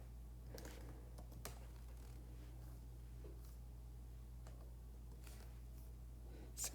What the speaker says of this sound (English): I'm just going to type this in the calculator here